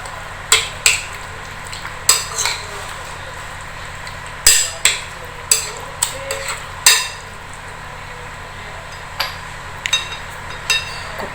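A spoon stirs lemon juice into a chicken marinade in a bowl, making sharp clinks and scrapes in irregular bursts, close and fairly loud, with no talking.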